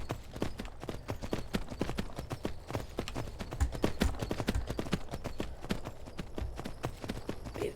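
Horse hooves gallop in Skyrim Special Edition near Helgen, a steady rapid clip-clop rhythm that runs continuously and fairly close, mixed with low game ambience and no talking.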